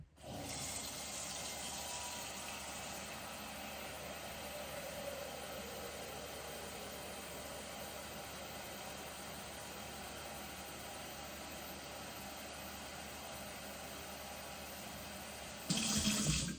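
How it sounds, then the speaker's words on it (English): Tap water runs into a pot being filled about halfway, a steady, even splashing rush at moderate level that carries on without a break until a brief louder clatter at the end. "grab your pot and turn on your water. I like to fill mine to be about halfway full."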